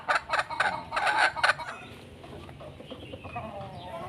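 A gull pullet hen cackles in a run of about six loud, rhythmic squawks, then settles into quieter clucking and background farmyard noise.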